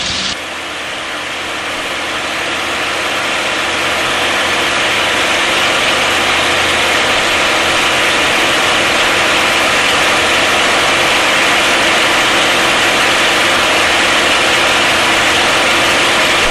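A P-51 Mustang's piston aircraft engine is run with the propeller brought up to 2,700 RPM, a loud dense roar that swells over the first seconds and then holds steady and unbroken, heard from close by without talk.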